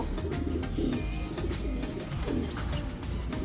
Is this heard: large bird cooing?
yes